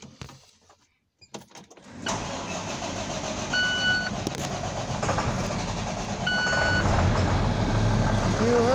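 An old truck with 460,000 miles cranks and catches, its engine rumbling to life and settling into a loud, steady idle, with an electronic beeping tone sounding intermittently over it.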